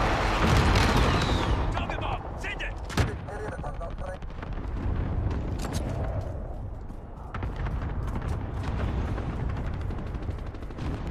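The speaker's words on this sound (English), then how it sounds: "Enemy cluster strike." Cluster strike explosions in a video game pound in a dense, continuous barrage of booms and crackling blasts, loud and close throughout.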